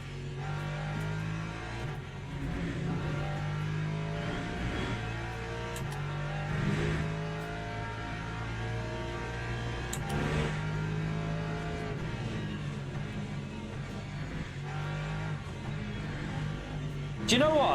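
Race car engine in the sim racing game Le Mans Ultimate, droning steadily through laps on cold tyres, with shifting revs and occasional gear changes under continuous game sound while someone talks over it.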